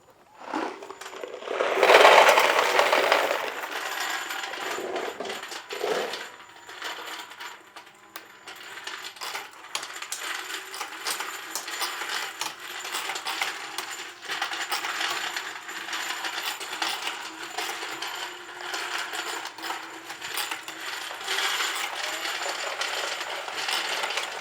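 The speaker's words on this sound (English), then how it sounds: "I'm going to dump some bullets in the bullet feeder" Rifle or pistol bullets pour into a Dillon bullet feeder with a sudden, loud metallic clatter, followed by a long run of quieter jingling and rattling as they shift and tumble in the collator.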